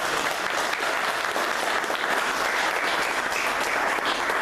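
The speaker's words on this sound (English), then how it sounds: "please, everybody can give them a round of applause" A conference audience gives a panel on a code of conduct and ombudsman program a round of applause, a steady continuous wash of many hands clapping that holds at an even level from start to finish.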